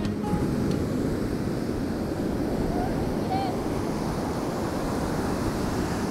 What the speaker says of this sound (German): Da ist das Meer, wir haben den Atlantik wieder.